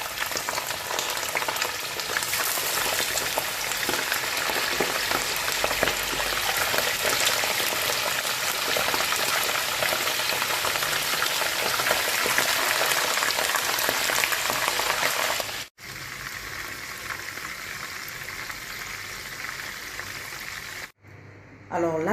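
Salted fish frying in vegetable oil in a pan, a loud, dense, continuous sizzle and crackle close up, cutting out abruptly near the end.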